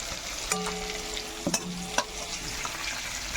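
Stringed flat beans fry quietly in oil in a pan, with a soft sizzle and a few sharp clatters as a utensil stirs them.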